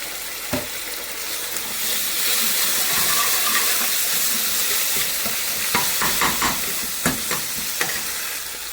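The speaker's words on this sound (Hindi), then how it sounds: "और अब मैं इसमें डाल दूंगी टमाटर प्यूरी" Tomato puree going into frying onion masala sets off a loud hissing sizzle, followed by a run of scraping, knocking stirs near the end, with no talking.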